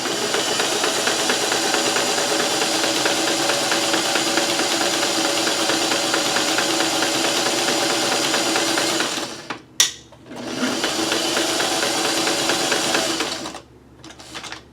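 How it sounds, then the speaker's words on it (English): A sewing machine stitches along a fabric ribbon in a steady, loud, continuous whir, pausing briefly twice before starting up again. "And then I'm going to sew on top of this."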